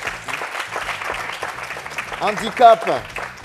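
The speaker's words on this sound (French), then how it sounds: "Allez, on va l'applaudir très fort." Studio audience applause on a televised youth debate show, a moderate wash of clapping mixed under background music and a voice for several seconds.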